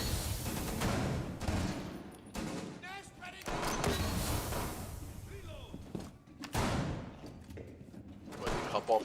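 Rapid gunfire from a game match, with repeated sharp bursts and thumps spread across the scene amid chatter and other game noise, mostly mid-distance and fairly loud.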